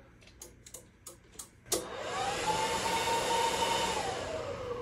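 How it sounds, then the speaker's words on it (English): Several clicks come first, then a sharp switch-on and a steady fan-like whoosh with a faint rising and falling whine as an amplifier dyno load bank runs on a car audio test bench. "Turn on my amp dyno."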